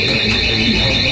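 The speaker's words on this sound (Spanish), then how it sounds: "vamos a solucionar la alarma que está sonando" An electronic alarm rings continuously in a press conference room, loud and steady with a shrill, unbroken tone.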